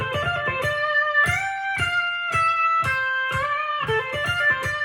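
An electric guitar plays a melody in short sustained notes, several bending upward in pitch, with a clear, slightly distorted tone and no voices.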